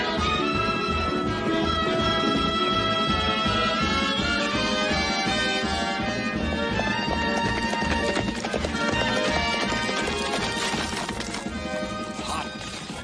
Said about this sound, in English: Fastest mile I ever saw a horse ride, Joe.